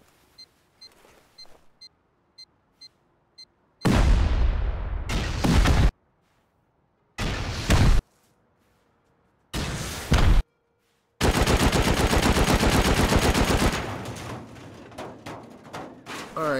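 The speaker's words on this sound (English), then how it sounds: "we'll sprinkle a little C4 there, and then we'll back up, and we'll finish it off with a dusting of a rocket" C4 charges and rockets blasting a base during a raid in the video game Rust, several loud, sharp explosive bursts separated by short silences, with faint beeping before the first blast.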